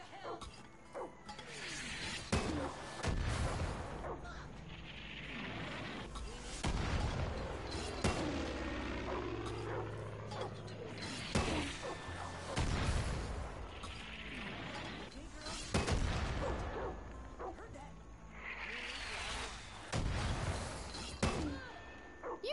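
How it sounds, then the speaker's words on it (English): Mortar shells pound the ground in Far Cry 5, a string of heavy, booming blasts every few seconds with crashing debris and rumbling aftermath between them, loud and close. "Just escaped an entire bombing."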